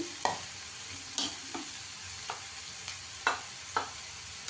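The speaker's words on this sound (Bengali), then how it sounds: "দিয়ে ভালো করে মশলাটাকে একটু কষিয়ে নিতে হবে।" Masala spices being sautéed and stirred in a pan while making an egg omelette, with a steady faint sizzle broken by several sharp scraping stirs of a spoon.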